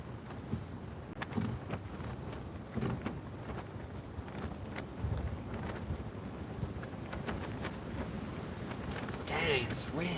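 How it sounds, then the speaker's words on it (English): Wind blows outdoors while fishing, a steady rushing buffet of gusts across the microphone, with faint talk and a brief noisier burst near the end. "Dang, it's wind."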